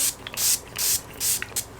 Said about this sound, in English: So I really like to spray my face with a spray before applying anything